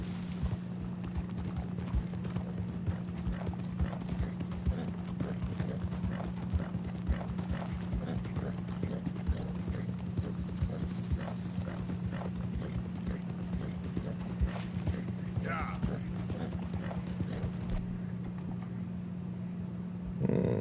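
Steady clip-clop of horse hooves at a walking pace in Red Dead Redemption 2, a regular rhythm running almost the whole time over a constant low hum, with a brief whinny-like sound near the end.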